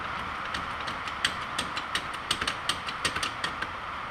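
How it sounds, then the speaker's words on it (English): A car jack is cranked up, giving a series of sharp metallic ratcheting clicks at an irregular, quickening pace over a broad steady outdoor background noise, close by. "Helps whenever you have the jack tightened so it'll go up."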